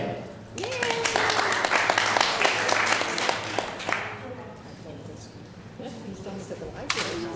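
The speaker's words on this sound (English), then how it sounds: "Would you please give a warm round of applause for my friends" A crowd claps for a ventriloquist's puppets at a live show. The applause is loud and dense at first, then thins to scattered claps, and voices murmur underneath it.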